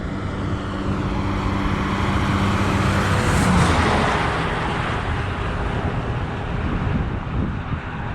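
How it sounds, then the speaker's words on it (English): A heavy truck rumbles past on a nearby road near Corner Brook, its roar swelling loudly to a peak mid-way and then easing, with wind buffeting throughout. "Here comes a truck, so sorry."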